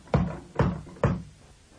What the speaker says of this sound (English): This is a knocker.